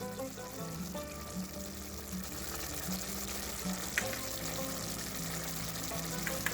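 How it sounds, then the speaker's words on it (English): Blended tomato paste sizzles in a pan of sautéed aromatics for channa masala, a steady close frying hiss with faint bubbling and occasional clicks, no voices. "I'm going to add the blended tomato paste."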